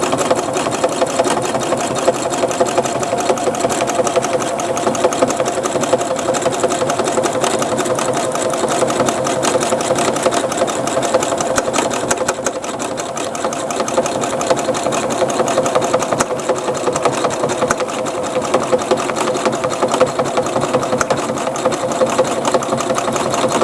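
A sewing machine stitches steadily through a scrappy cat quilt made of mixed fabrics, a continuous close rapid whirring hum that runs without pause.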